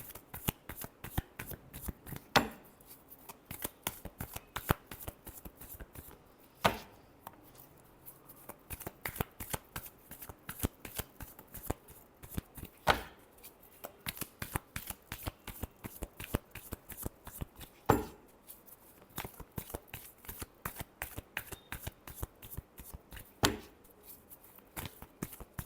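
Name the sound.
tarot cards being shuffled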